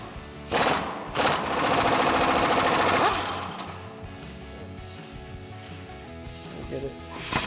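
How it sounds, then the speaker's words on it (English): An impact wrench fitted with an extension and a 19mm socket hammers in a loud burst of rapid rattling during a Jeep Wrangler JK suspension lift install, then tapers into quieter mechanical noise. "we're going to switch out to our impact and extension with our 19mm socket"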